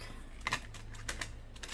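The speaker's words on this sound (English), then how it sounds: "They're very thick cards, so we have to shuffle like this." Thick tarot cards shuffled by hand: quiet, close riffling clicks and taps in several irregular bursts, faint and alone.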